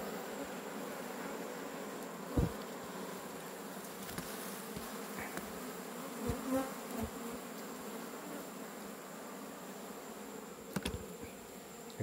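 Bees buzzing steadily around an opened hive while red honey is harvested in Tocantins, a continuous insect hum close by with occasional bumps and knocks, no talking.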